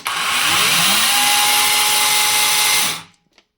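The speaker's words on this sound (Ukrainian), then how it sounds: "Попрацювала пила скільки? 3 секунди." A GRAND cordless battery chainsaw runs loudly for about three seconds with a steady high whine, then cuts off abruptly into near silence.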